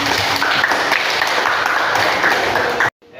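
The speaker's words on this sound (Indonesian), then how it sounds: "tepuk tangan buat kalian semua" Pupils in a classroom applaud in a burst of brisk, close clapping for about three seconds, then it cuts off abruptly.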